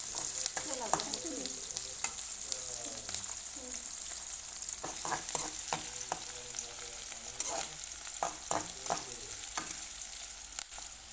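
Onions and chillies sizzle and crackle steadily in a hot wok for a spicy tomato and eel curry, with repeated scraping stirs of a spatula against the metal, close and continuous, no talking.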